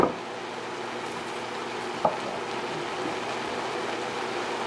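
Napa cabbage cooks in a pan without oil as part of a vegetable fried rice, giving a steady soft sizzle with a short stirring clatter partway through and no voices.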